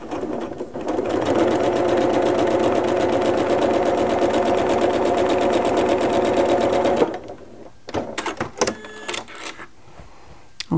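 A sewing machine fitted with an open-toe applique foot stitches a quilt block, running in a steady, loud mechanical whir for several seconds before stopping, followed by fabric handling.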